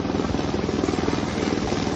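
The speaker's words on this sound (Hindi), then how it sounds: "धराली के ऊपर पिछले कुछ दिनों से उड़ान भर रहे ये हेलीकॉप्टर" Army helicopters fly over the cloudburst-hit village of Dharali in Uttarakhand, their rotors beating out a loud, close, rapid thumping over a dense engine whine, with no one speaking.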